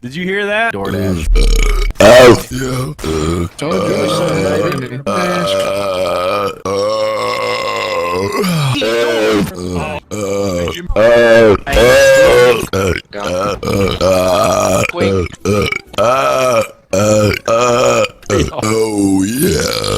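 A string of loud, deep, drawn-out burps after eating soup, repeated close-up in quick succession with short bits of talking between them.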